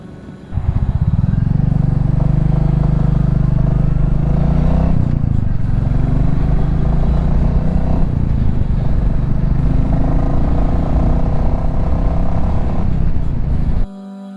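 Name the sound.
motorcycle riding at night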